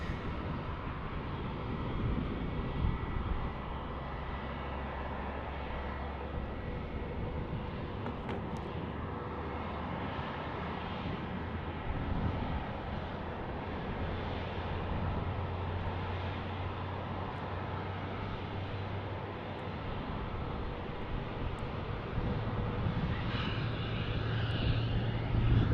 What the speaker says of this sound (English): T-38s are definitely louder, 2 afterburning engines compared to a single non-afterburner, Dan Reeve says.